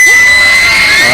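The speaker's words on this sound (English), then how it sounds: "whoever is a supporter of EVOS Singapore, on my count, I want you to shout and scream as loud as possible" An esports arena crowd at a Mobile Legends grand final shouting and screaming loudly for EVOS Singapore, a brief dense roar of cheers and high-pitched shrieks.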